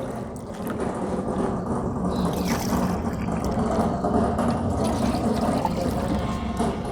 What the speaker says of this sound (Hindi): लोटे से पानी लिया जाता है।